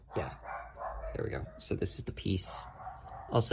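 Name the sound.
dogs barking upstairs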